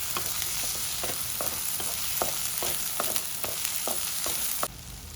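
Sheep brain meat with salt and turmeric fries in a pan over a low flame, giving a steady quiet sizzle broken by regular sharp scrapes of stirring, before the sizzle drops away near the end.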